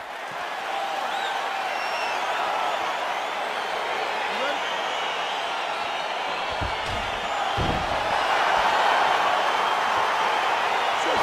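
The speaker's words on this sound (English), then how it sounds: "Crowd getting excited as this fight gets underway" A video game crowd at a UFC fight roars in a steady, dense cheer that swells louder toward the end, with a few thuds and a commentator talking over it.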